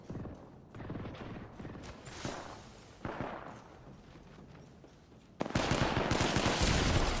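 Rapid bursts of Prowler SMG fire in an Apex Legends match, rattling in clusters at middling distance, then a louder, denser stretch of gunfire near the end, with no talk.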